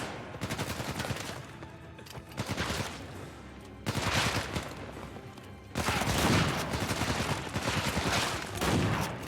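Rapid automatic gunfire in the game Uncharted 4, dense bursts of shots cracking in waves with brief pauses between volleys, loud and continuous.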